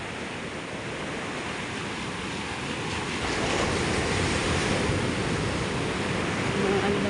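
Typhoon floodwater rushes in a steady, loud broadband roar that swells louder midway and keeps going without a break, with wind buffeting the microphone.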